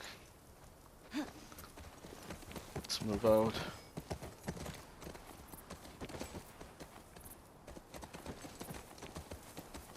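Horse hooves clip-clop in the video game The Last of Us Part II, a run of quick rhythmic hoofbeats on hard ground that swell briefly then keep going softer, with someone talking over part of it.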